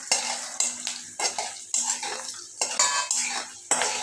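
Peanuts frying in a pan while being stirred, a steady run of clinking, scraping utensil strokes about every half second over a faint crackle, close and fairly loud, no voices.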